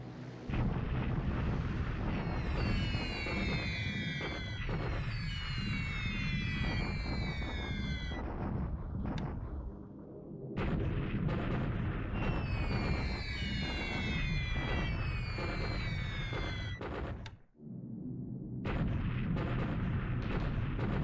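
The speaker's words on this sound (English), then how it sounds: "Bombing the troops on the gateway to Aichang here." Artillery and bomb bursts from troops being bombed in a World War II strategy game set in January 1942, Japan against the Allies: continuous loud booming barrages with crackling gunfire, briefly dropping out twice, no talk.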